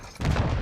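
A bouncing Betty mine goes off in the video game Warzone, a sudden loud blast with a dense, rumbling burst of noise that holds steady for the rest of the moment.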